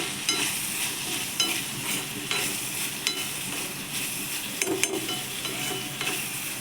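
Cowpea pods and chillies fry in a pan while being stirred, a continuous close sizzle broken by irregular scraping strokes and light knocks of the utensil.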